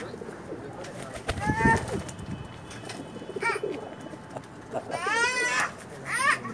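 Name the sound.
pigeons on a rooftop loft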